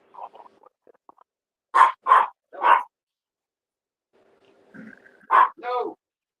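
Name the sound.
dog barking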